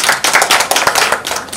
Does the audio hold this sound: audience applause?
yes